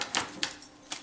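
Tarot cards being shuffled during a reading, a few quick soft riffling flicks close by, spaced irregularly over about a second against a quiet background.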